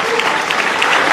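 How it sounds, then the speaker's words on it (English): Brief burst of crowd applause for a speaker at a public gathering, loud dense clapping filling the short moment. "A big round of applause for him."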